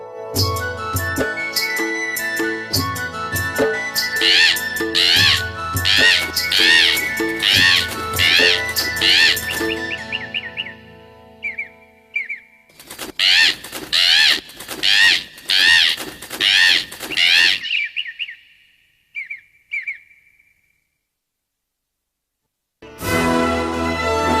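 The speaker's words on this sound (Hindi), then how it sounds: "ये तो बहुत मजेदार तोता लाए हो मेरे लिए" A cartoon parrot in an animated Akbar and Birbal story squawks and chirps in rapid, shrill bursts, loud and repetitive, broken by short pauses and a longer silence before calling again.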